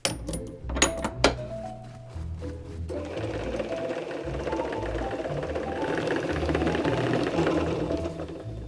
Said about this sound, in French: la première étape de la dentelle où on va mettre 150 mètres de fil dans cette bobine en laiton